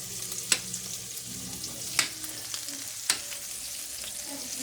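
Zucchini frying in a pan, a steady close sizzle with three or four brief clinks of stirring scattered through it and no talk.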